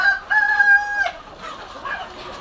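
A large Tiger-breed rooster crows once nearby in a loud, strained cock-a-doodle-doo lasting about a second, followed by softer background clucking from other fowl.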